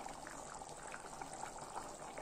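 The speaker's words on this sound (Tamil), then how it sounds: "பாருங்கள் நல்லா கொதி வந்துட்டுருக்குது" Butter bean gravy simmering in a pan gives a soft, steady bubbling with small pops, quiet and continuous, with no voices.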